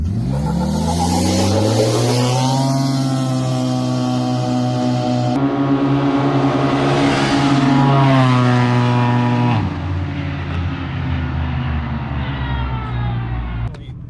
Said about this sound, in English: we're gonna race them from idling. That means just flooring it, no brake stalling, no cheating.